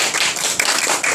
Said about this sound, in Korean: 큰 박수가 필요합니다.